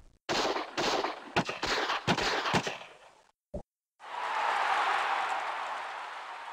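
Combat gunfire in the strategy game Civilization II as French forces attack: a burst of several sharp, loud cracks in quick succession, a brief pause, then a sustained noisy roar that lingers and slowly fades.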